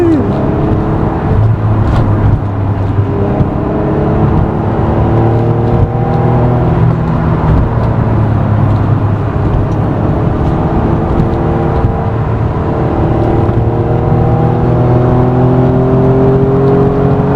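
Acura NSX mid-engine sports car driving, its engine revving and pulling through gears with rising and falling harmonic tones, loud and close throughout, with occasional voice over the drone.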